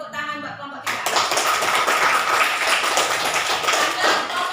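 Classroom students clap together for a group that just finished presenting, a brief quiet tap or two first, then a burst of dense, close clapping that keeps up steadily to the end.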